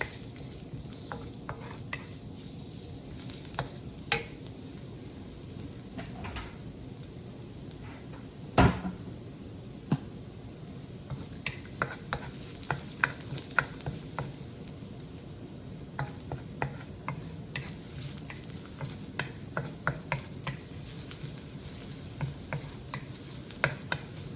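Chopped garlic browning in a pan for a stir-fried dried noodle dish, with a soft steady sizzle under frequent clicks and knocks of utensils and cupboard sounds.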